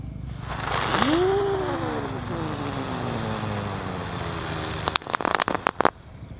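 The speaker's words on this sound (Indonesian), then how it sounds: "lanjut kita akan menyalakan mercon Terate yang Pratek yang warna hijau ini" A green Terate roman candle firework, lit outdoors at night: a long sizzling fuse hiss with a rising whistle-like tone, then a burst of sharp crackling pops near the end.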